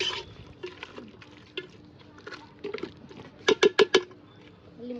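A spoon stirs goat head curry seasoned with salt in a pressure cooker pot, with soft wet patter and scraping, then four quick loud metallic taps against the rim near the end.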